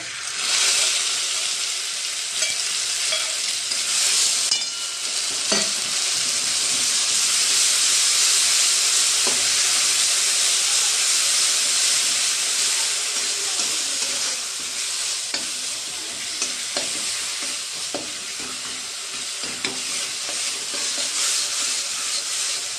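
Ginger garlic paste fries in a small amount of oil, giving a loud, close, continuous sizzle and steamy hiss, broken now and then by clinks and scrapes of a spoon stirring in the pan.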